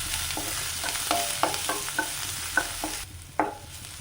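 Onion, garlic, bird's eye chillies and curry leaves frying in hot oil for paneer roast, a steady close sizzle broken by several sharp scrapes and taps of a spoon stirring the pan, no voices.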